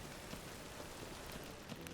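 Steady rain in The Witcher 3 video game falls as a soft, even wash of noise with no breaks, faint and continuous, and nobody speaks.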